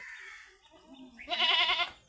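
Crossbreed goats kept with their kids bleat nearby: a thin, wavering call followed by a louder, strongly quavering bleat.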